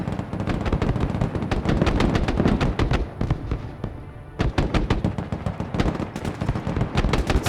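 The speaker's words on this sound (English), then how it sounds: "Slinging grenades over the tree line." Grenade blasts and gunfire crack in the military video game Broken Arrow, in close, rapid, overlapping bursts that barely pause for several seconds.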